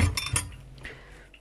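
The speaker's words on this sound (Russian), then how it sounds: "сейчас мы здесь убираем тоже все стаканы и тарелки" Glasses and plates clink and clatter as they are gathered up, a few quick bright knocks followed by fainter rattles.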